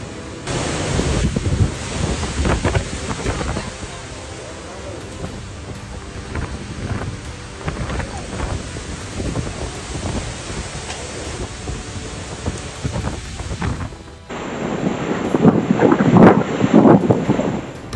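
Hurricane Idalia's wind roars in southern Georgia, a continuous, loud, gusting blast mixed with rain noise that surges even stronger in the final few seconds.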